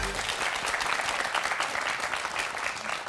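Sustained applause from a television studio audience, a dense, steady wash of many hands clapping close and loud for the whole stretch, with a faint voice briefly under it at the start.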